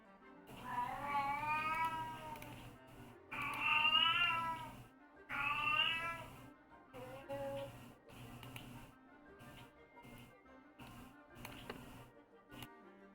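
A cat meows loudly three times in drawn-out, wavering cries, followed by quieter sounds and faint background noise.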